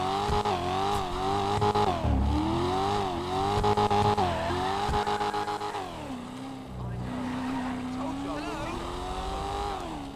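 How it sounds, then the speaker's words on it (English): Engine of a new DLC car revving in GTA 5 Online, loud sustained harmonic roar rising and falling through several rev sweeps, then settling into a steadier drone near the end. "Let's listen to the revs."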